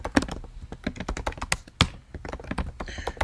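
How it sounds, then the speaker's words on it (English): Fingers type on a computer keyboard while code is entered, giving close, irregular clicky keystrokes in quick bursts with small pauses and no talking. "I just choose to type in to practice my typing skills."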